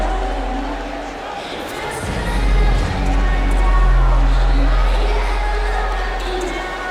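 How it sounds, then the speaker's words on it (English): Arena crowd cheering at a live event in Boston, a broad roar that swells in the middle and holds steady, with a low rumble underneath and no distinct voices rising above it. "Listen to the crowd for true conviction."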